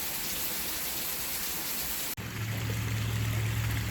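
Heavy downpour hammering down outdoors near a garden pond, a dense, loud, continuous hiss of rain with a brief dropout midway before the steady roar resumes.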